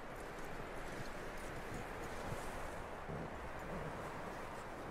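Steady clip-clop of a horse's hooves walking in the video game Red Dead Redemption 2, a continuous rhythmic beat over a dense bed of wind-like noise, with no talking.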